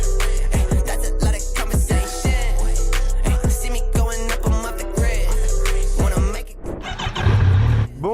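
A Kawasaki Z900 50th Anniversary motorcycle starts and revs in sharp repeated blips up close, then settles into a rumbling idle as someone speaks over it.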